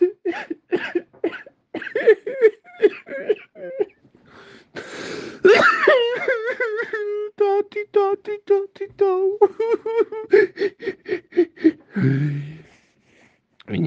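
A woman cries after waking in the morning, with a close run of choked sobs, gasping breaths and drawn-out wavering wails that swell and break off, ending in a rough heave.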